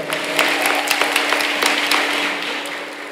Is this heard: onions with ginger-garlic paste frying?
no